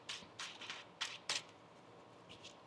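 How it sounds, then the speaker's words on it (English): Tarot cards being shuffled by hand, a few soft papery riffles and snaps in quick bursts, close and quiet with no talk. "One more shuffle."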